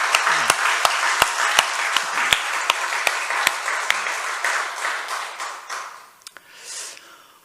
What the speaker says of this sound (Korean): 영광의 박수를 한번 드리겠습니다